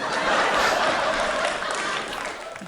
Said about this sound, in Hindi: एक बार जोरदार तालियां बजाकर मुझे मन दीजिए